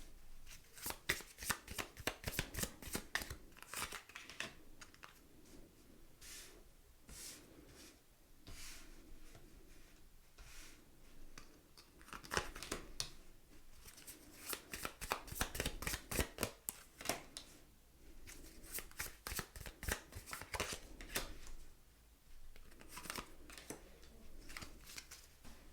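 Tarot cards being shuffled by hand for a pick-a-card reading, a long run of crisp riffling bursts and soft card flicks in uneven waves, close and fairly quiet with no talking.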